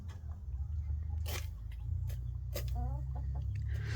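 Big Brahma hens cluck softly in a coop on a warm day, short clucks and pecking sounds over a low steady hum, with a person's voice faintly in the background.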